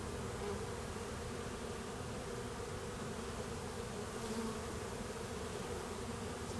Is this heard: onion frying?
no